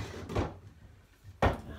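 A wooden bedside drawer is opened or shut, giving two short, close wooden knocks about a second apart over a quiet room.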